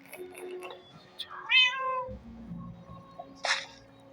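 A cat meows close by, giving several short, rising calls in quick succession with a longer whining meow, against a quiet background with faint low rumbles.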